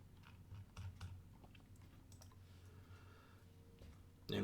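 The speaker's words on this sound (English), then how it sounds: "let's go ahead and type in AMD" Faint keystrokes on a computer keyboard entering the ticker AMD, a few soft scattered clicks over low background hum, ending in a louder rustle.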